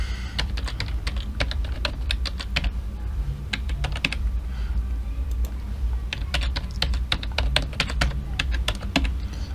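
Steady typing on a computer keyboard, close and clear, with bursts of quick keystrokes broken by short pauses while an email address and password are entered.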